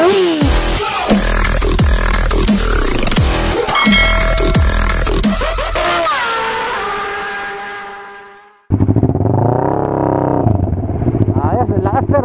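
A 650cc motorcycle engine revs loudly close by in sharp repeated bursts, then holds a long falling note that cuts off and resumes in a high, sustained roar, with someone talking over it.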